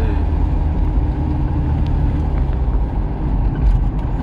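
A Matra Murena sports car carrying three people drives along, its engine a steady, close drone with road rumble filling the cabin throughout, no voices heard.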